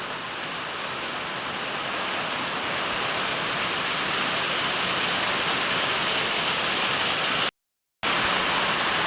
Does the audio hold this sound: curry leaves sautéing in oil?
no